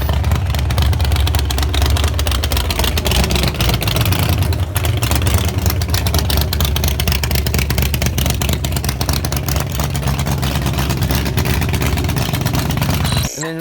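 An 800 hp 1934 Ford hot rod engine runs loud and steady throughout, a dense low rumble with sustained revving and no clear pauses, cutting off near the end.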